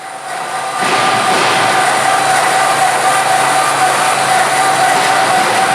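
A cutting machine slicing through plastic injection-molding purge at slow feed speed, a loud, steady grinding whine with a constant tonal hum that rises after a brief quieter start.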